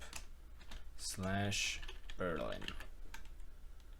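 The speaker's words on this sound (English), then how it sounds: "so just gonna type in" Keys clacking on a computer keyboard while a time zone is entered in an Ubuntu server setup on a Raspberry Pi, with quiet, quick taps running under a brief stretch of speech.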